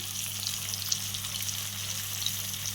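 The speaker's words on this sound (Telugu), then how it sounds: "ఇప్పుడు లైట్ బ్రౌన్ కలర్ వస్తుంది. సో కొంచెం దగ్గరగా వేగాలి." Semolina (rava) browning in a pan for upma gives a steady, close sizzle with soft crackling throughout, with no voices and a low steady hum beneath.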